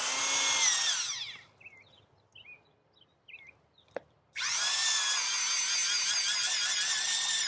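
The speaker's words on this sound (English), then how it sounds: "Okay, so now I'll drill another hole." A very old antique power drill boring a hole into a tree stump outdoors, loud high whine for about a second, a quiet gap with faint birdsong, then the drill starts up again and runs steadily.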